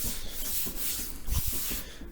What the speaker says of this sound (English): what I do with the filler is I sand it down till I hit the first high spots